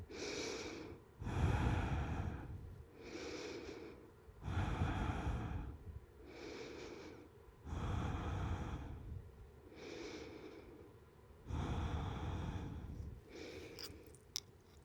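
Five long, loud breaths held through an Ashtanga yoga pose, each a forceful breathy inhale or exhale close to the ear, in a steady rhythm about every one and a half seconds, with no talking.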